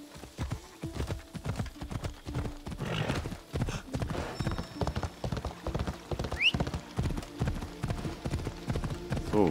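Horse hooves gallop in a steady, fast clip-clop rhythm throughout, loud and close, in the video game Assassin's Creed Odyssey, with an occasional whinny and faint game ambience underneath.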